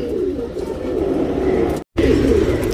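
A tournament racing pigeon coos steadily and close up, a continuous low murmuring call that breaks off briefly near the end and then resumes.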